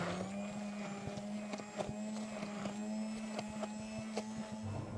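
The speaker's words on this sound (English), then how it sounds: "It in the Bajaj blender. Let's put it in that. Make it very fine pasted." A Bajaj blender runs steadily with a constant motor whine and a grinding rattle as it purees a sauce for lamb shank into a fine paste, close and loud with no speech.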